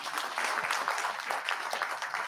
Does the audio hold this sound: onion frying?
no